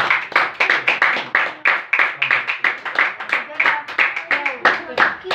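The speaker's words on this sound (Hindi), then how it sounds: "जोरदार ताली है।" A congregation at a Christian sermon gives loud applause, rhythmic clapping in steady repeated bursts up close, with voices calling out over it.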